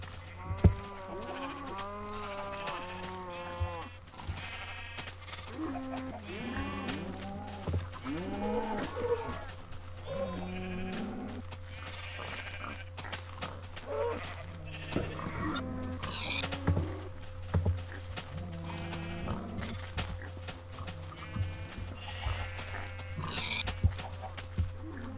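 Sheep bleating in the video game Minecraft, with several repeated wavering bleats through the first half over a constant low hum and scattered clicks, then sparser game sounds.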